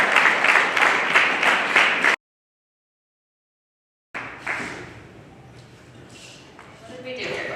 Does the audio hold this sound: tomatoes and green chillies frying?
no